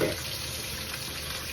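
Steady running tap water splashes continuously as something is rinsed, close and fairly quiet, with no talking.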